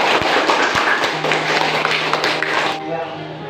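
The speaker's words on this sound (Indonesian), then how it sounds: "kita berikan aplaus untuk kelompok 1" Classroom applause for a student discussion group during a social studies lesson: a dense, loud wash of clapping from many hands with a few sharper claps standing out, tapering off near the end.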